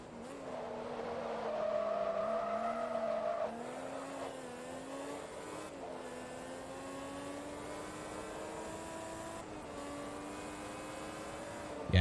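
Race cars in Forza Motorsport 2 roar with a high, sustained engine whine that rises and falls through gear shifts, loud and continuous with no talk.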